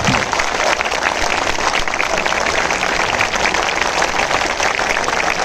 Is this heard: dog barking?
no